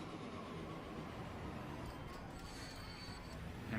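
Train running in the rail-building game Transport Fever, a steady low rumble that holds at even loudness from start to end, faint and distant in character.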